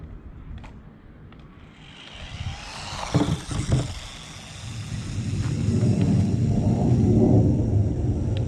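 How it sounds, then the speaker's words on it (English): A low rumbling roar builds and swells as an airplane passes overhead, with a couple of brief thumps along the way. "Sorry for the aeroplane noise."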